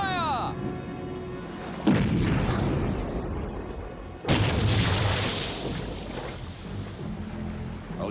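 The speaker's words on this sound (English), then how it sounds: "Stand by to fire! And" A ship's gun fires aboard a New Zealand Castle-class minesweeper trawler, two loud booms several seconds apart, each with a long rumbling decay over the sea and engine noise.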